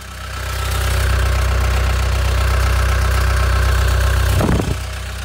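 A Cat 236B full-cab skid steer loader's diesel engine runs steadily close by, a loud throbbing rumble that ramps up at the start and holds, with a brief clatter near the end.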